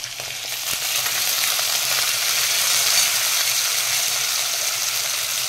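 Moong dal and garlic sizzle in a pan with a loud, continuous frying hiss that stays steady throughout, and no talking.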